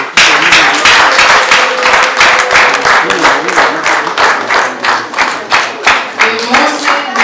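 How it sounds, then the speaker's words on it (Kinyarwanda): A crowd at a doctoral graduation celebration claps together in a steady, rhythmic beat. The applause is loud and continuous, with voices mixed in underneath. "Gukomera Imana amashyi."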